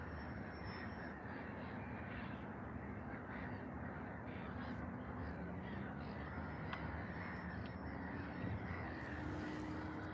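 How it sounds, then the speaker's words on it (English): Distant birds cawing and calling across open water by the shore, faint and scattered over a steady wash of wind and ambient noise. "Sounds like the birds are having fun over there somewhere."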